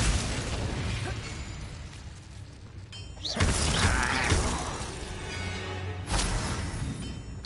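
Glacius ice spell cast in Hogwarts Legacy, heard as bright shattering, crackling bursts that come in a few distinct hits over dense combat noise and a low musical bed.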